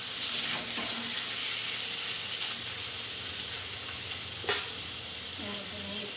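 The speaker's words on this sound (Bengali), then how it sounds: "এবার এই তেলেই আমি পনিরটাকে ফ্রাই করে নেব।" Paneer frying in hot oil gives a steady close sizzle that runs throughout, broken by a few soft stirring scrapes and light knocks. No one speaks.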